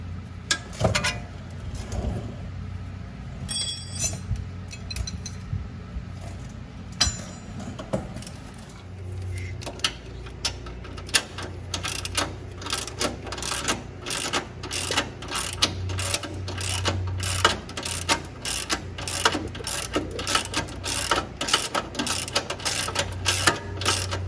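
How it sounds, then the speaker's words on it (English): Ratchet wrench clicking steadily as it backs out the Allen bolt for the wheel speed sensor on a Range Rover L322 steering knuckle, close and moderately loud, with rapid repeated pawl ticks through most of the span. "All I'm doing now is just taking out the Allen bolt, or the Allen screw for the wheel speed sensor"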